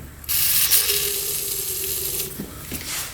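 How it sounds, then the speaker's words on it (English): A can of WD-40 sprays in short hissing bursts down into a motorcycle, loud and close, with faint mechanical clicks near the end and no talking. "We're gonna try to spray a little WD-40 down there."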